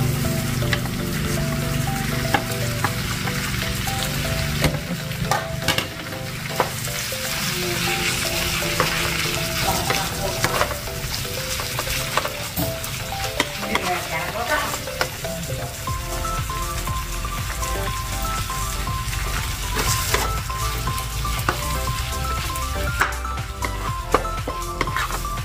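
Steady, dense sizzling of pork intestine frying in a hot pan, continuous throughout with occasional stirring scrapes and pops, no talking.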